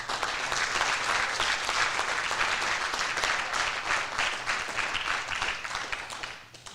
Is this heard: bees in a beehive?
no